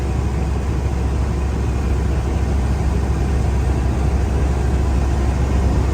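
Steady low road and engine rumble inside a moving Ford F250 pickup cabin, a constant even drone with no talking.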